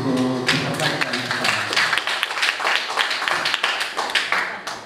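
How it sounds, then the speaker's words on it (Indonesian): An audience at a Qur'anic scientific paper presentation final, women's division of a regency-level MTQ competition, claps for a participant, a dense patter of hands following a voice that trails off at the start. "silakan tepuk tangan untuk peserta pertanyaan"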